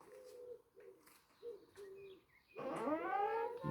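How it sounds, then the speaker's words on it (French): Outdoors in Africa, a dove gives repeated soft cooing notes, then a loud, close burst of chirping birdsong takes over near the end. "N'est-ce pas, vous entendez ces oiseaux en Afrique?"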